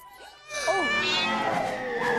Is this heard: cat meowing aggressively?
yes